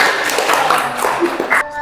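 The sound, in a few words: applause for a group in a classroom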